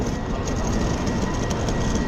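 A train running on the rails between Budapest and Bratislava, a dense continuous rumble with faint rhythmic clatter, steady and close throughout, no talking.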